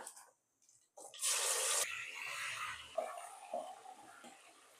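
Water is poured into a pot for chicken dum biryani, a fairly quiet splashing rush after a brief silence that settles into softer trickling and gurgling.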